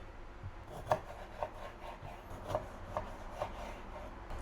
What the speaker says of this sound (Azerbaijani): Bir dənə də lime kəsirik.